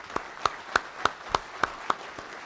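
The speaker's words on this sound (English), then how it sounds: "How about a round of applause for Jefferson County and that initiative?" Sparse clapping at a farm bureau state annual meeting, a handful of evenly spaced, distinct claps, fairly quiet, heard on their own with no talk.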